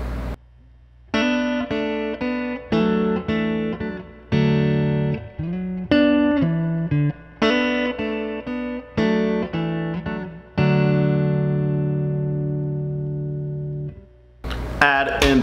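Clean electric guitar notes and chords through a Princeton Reverb amp ring out one after another, each with a smooth sustain and a long final chord decaying away.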